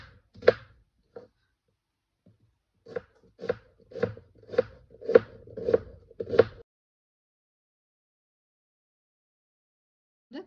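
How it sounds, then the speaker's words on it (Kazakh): A knife chops potatoes into small cubes on a board: about nine crisp, close chops in an uneven rhythm, followed by quiet. "Картопымызды майдалап төрт бұрыш қылып тураймыз."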